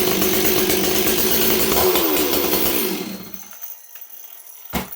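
A Stihl 026 chainsaw with a troublesome kill switch, running loud and close with a raspy two-stroke roar that drops off sharply after about three seconds, followed by a faint knock.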